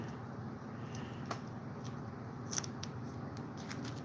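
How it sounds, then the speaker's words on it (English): Small piece of duct tape cut during a chainsaw restoration, a few faint snips and short rips close up over a steady low room hum, with no talking. "Small piece of duct tape here."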